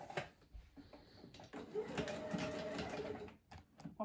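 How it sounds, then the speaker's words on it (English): A sewing machine whirs steadily for a couple of seconds in a quiet room, with a few soft clicks and handling noises before and after. "I'm going to just use my normal sewing machine."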